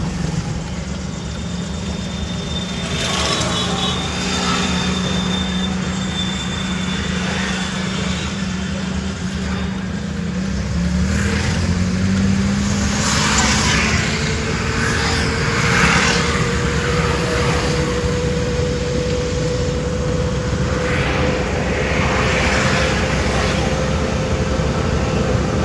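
Car engine humming on a service road while pulling toward the highway, with a rising tone as it accelerates and occasional voices from inside the car.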